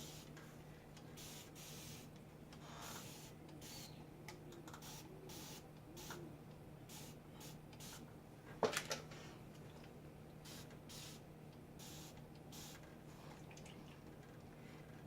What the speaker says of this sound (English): now we're going to use the spray bottle again on all these areas